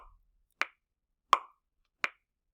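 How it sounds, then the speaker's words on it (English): Metronome set to 84 beats per minute, three sharp clicks spaced evenly at a moderate pace, faint and isolated against silence, during a trumpet lesson. "going to slow down my metronome just a little bit to 84 beats per minute"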